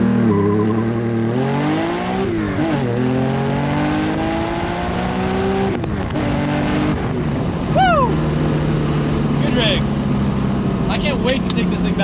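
A Nissan Skyline engine revs through a titanium muffler, rising and falling several times in loud, close, throaty bursts, then settling into a rough idle, with no talk over it.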